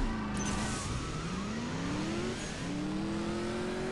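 Race car engine in the mobile game CSR Racing 2, a 0 to 100 drag run against a Porsche 911 GT RS, revving steadily upward through several gear shifts, loud and continuous.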